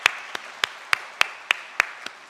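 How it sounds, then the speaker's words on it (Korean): A church congregation at a Sunday morning service gives a short burst of applause in welcome. The clapping comes as evenly spaced, fairly crisp claps, about eight in a little over two seconds. "저 위층에 계신데 따뜻한 박수로 환영해 주시기 바랍니다."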